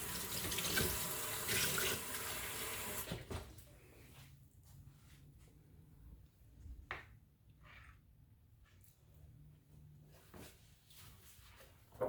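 Water running from a kitchen tap for a few seconds, a close steady splash that stops abruptly, followed by quiet handling noises and small clicks.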